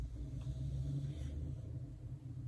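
Low, steady engine rumble of a Barracuda idles in the distance, a faint continuous drone with no speech over it.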